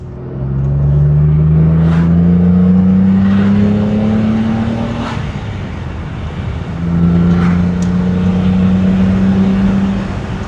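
V12 engine of a BMW E31 850i revving while driving, two rising pulls with a dip between them, loud and close from inside the car, with no talk.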